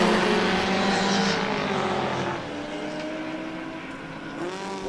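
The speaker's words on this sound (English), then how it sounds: "Some Porsches and Alphas going added into turn 1" Porsche and Alfa Romeo race cars roar past into turn 1 at a circuit racing festival, engines loud and sweeping by, the note dropping as they pull away.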